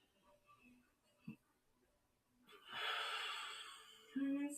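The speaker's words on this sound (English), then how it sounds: "Take an inhale. Exhale. 2 more deep breaths." A person doing deep breathing during seated yoga: a quiet stretch with a small snort-like catch, then a long, airy, steady breath building and sustaining, followed by a fuller breath sound near the end, close and soft.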